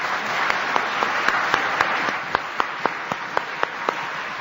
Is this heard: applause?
yes